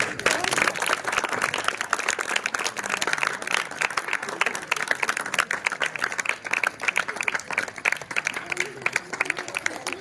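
Applause at an award ceremony for young swimmers, sustained dense clapping from a crowd with a voice speaking over it.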